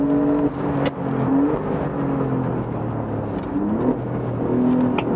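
The Alfa Romeo GTAm engine pulls hard under acceleration inside the car, a loud steady roar climbing in pitch with brief dips at gear changes, heard up close.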